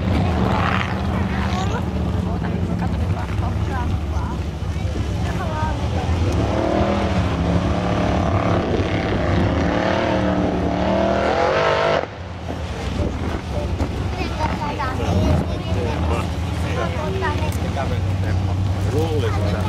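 A Devil X formula offroad race car drives on a Finnish hillside course at a 2012 event. The engine drones loud and continuous, its pitch rising and falling across the run, with an announcer talking over it.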